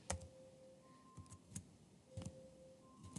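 A calculator keypad is tapped to enter numbers: a handful of quiet, separate plastic key clicks come at an uneven pace, close by and alone.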